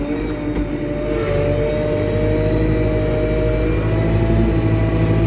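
Diesel engine of a Lovol P4110 tractor with a mounted KPN-4.5-3PS cultivator running steadily, a continuous loud low rumble and drone held at an even level throughout with no voices.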